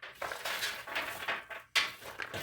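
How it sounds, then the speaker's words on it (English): Granite grit poured into a frying pan, readied for roasting peanuts, gives a dense gritty rattle that runs for a couple of seconds in uneven bursts, with a sharp renewed rush near the end and no talk. "So we're going to pour it here. Put the granite inside."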